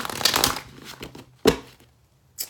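Cards riffled and shuffled in a quick burst, then a single sharp snap, followed by a brief soft shuffle at the end.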